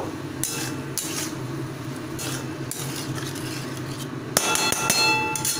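Spice paste being mixed into eggplant in a pan for a vegetarian eggplant keema: steady scraping and stirring clatter of a utensil against the pan, with a brighter clink and sizzle near the end, no talking.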